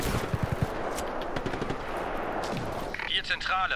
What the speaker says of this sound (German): Ich werde weiterhin von diesen übermenschlichen Leuten beschossen.